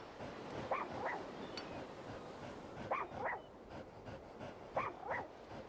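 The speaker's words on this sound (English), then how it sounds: "Can I pet the dog?" Dog barking in a horror video game, three short pairs of sharp barks spaced about two seconds apart over a faint ambient background, fairly near and clear.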